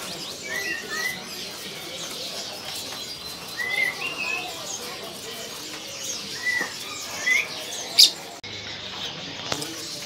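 Caged songbirds at a bird seller's kiosk give scattered chirps and short whistled calls, moderately faint over a busy background murmur, with one sharper, louder call near the end.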